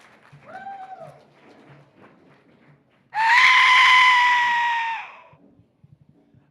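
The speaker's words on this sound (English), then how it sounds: "This is the so-called death whistle" Aztec death whistle blown hard into a microphone on stage, a single piercing, harsh scream-like shriek lasting about two seconds, loud and close, after a short quieter whistle tone.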